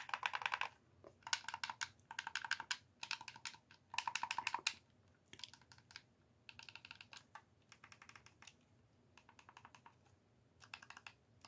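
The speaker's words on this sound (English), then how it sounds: "Let's do button ASMR." Buttons on a Nintendo Switch controller are pressed in quick clicky clusters, close and quiet, with short pauses between runs of taps.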